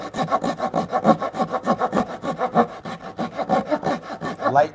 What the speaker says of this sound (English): So we get to use the saw for a couple more minutes. I'm going to try the hardwood side just to see how it does.